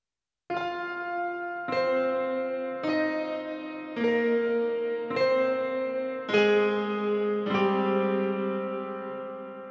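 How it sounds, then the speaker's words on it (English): Piano drenched in a large reverb, playing a slow sequence of about seven struck chords, each ringing out into a long wash before the next, moderately loud with no voices. "So that's a great piano sound. And we have a large reverb going on there."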